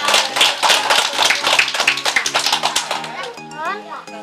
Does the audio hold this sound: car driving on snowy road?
no